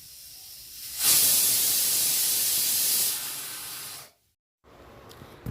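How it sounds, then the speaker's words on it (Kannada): A pressure cooker whistle: a loud burst of hissing steam rushes out for a few seconds, then cuts off abruptly, leaving a quiet room with faint clicks. "ಕುಕ್ಕರು ಒಂದು ಮೂರು ವಿಷಲ್ ಕೂಗಿದ ಮೇಲೆ ಅದನ್ನು ಆಫ್ ಮಾಡಿಬಿಟ್ಟು"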